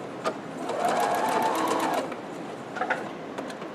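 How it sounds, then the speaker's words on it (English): A sewing machine stitches a standard 5/8 inch seam in a brief, close burst of about a second, with light clicks and handling noises before and after. "And all you're doing is creating that 5/8 inch seam, which is a standard seam for sewing."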